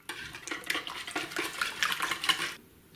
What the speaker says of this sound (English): And I'm just going to whisk all of this together like that